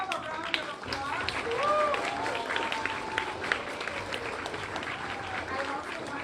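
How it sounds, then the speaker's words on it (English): Audience applause at a live school event with grade-school children and staff, a steady wash of clapping and crowd noise lasting several seconds, with voices mixed in. "Give them a round of applause."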